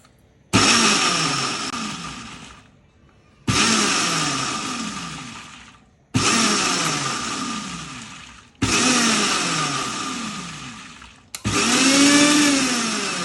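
A kitchen blender grinds jamun chutney in five separate whirring bursts of a few seconds each, every burst starting loud and easing down, with short pauses between.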